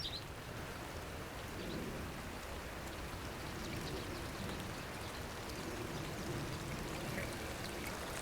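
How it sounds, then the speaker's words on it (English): Rain falling during a bass fishing trip in ugly weather: a dense, constant hiss of drops pattering on water and surfaces, steady and close for the whole stretch. "As soon as the rain started."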